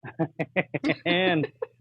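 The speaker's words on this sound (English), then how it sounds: "You can hear the bird in the background." A nearby bird gives a quick string of short harmonic calls, ending in one longer drawn-out note before a few final chirps.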